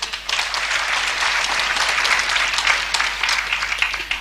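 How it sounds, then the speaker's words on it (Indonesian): An audience at a church seminar claps in a dense, steady burst of applause that holds at full strength from start to finish, with no voices on top. "Tepuk tangan."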